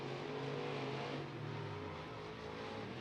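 Race cars finish a heat race at Beckley Motor Speedway, their engines droning and revving steadily at a moderate distance, with a continuous layered roar and no voices.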